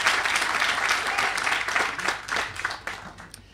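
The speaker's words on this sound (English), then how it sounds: "Please, a round of applause for Kate Bennett." Applause from the audience at a public housing groundbreaking ceremony in Orient Heights, a sustained burst of many hands clapping that stays steady, then gradually thins and fades toward the end, with no talk over it.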